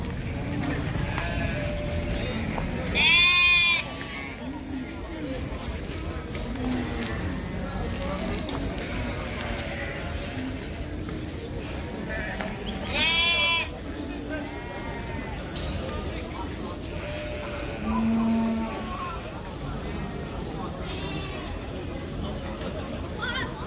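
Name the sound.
sheep bleating at a livestock market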